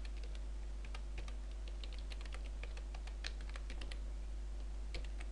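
Quiet, close clatter of keys being typed on a computer keyboard, a quick irregular run of clicks over a faint steady hum.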